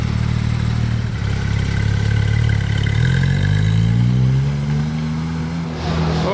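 A red Ferrari 430 Scuderia with gold wheels passes nearby, its engine note rising steadily in pitch as it accelerates, loud and continuous with no talk over it.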